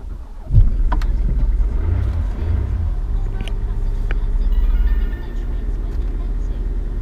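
A Jaguar XJ diesel engine cranks briefly, then catches and settles into a steady low rumbling idle that rises slightly before easing back, heard from inside the car with a few faint clicks.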